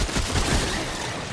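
Rapid gunfire while shooting enemies in Remnant: From the Ashes, a dense burst of loud, overlapping shots forming a continuous fusillade across the moment.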